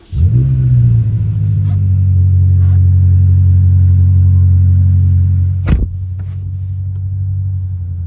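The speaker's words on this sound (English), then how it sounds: "let's just turn the car on actually." A BMW M8 Competition engine cranks and catches with a quick rev, then settles into a steady low rumbling idle close by, with a brief click partway through.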